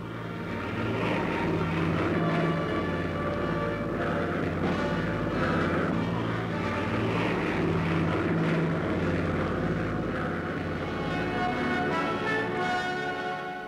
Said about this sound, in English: Later, Shepard is flown to Grand Bahama Island.